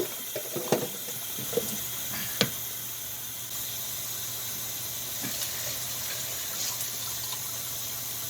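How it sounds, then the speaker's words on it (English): Tap water runs into a pot to fill it for lentil soup, a steady hissing stream with a few clanks early on, close and moderately loud with no talk. "Now let's put in fresh from the tap."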